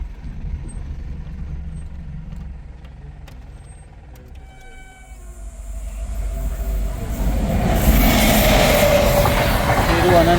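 A train on the Konkan Railway approaching a road level crossing, its rumble building from faint to loud and close over the last few seconds, with a brief horn-like tone earlier and traffic noise around.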